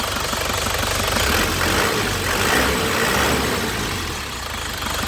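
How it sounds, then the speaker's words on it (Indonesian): A 2006 Grand Touring manual car engine runs close and loud, its rough idle rising and swelling with light throttle blips before easing back. "Ini suara mesinnya lur, kita gas-gas dikit ya."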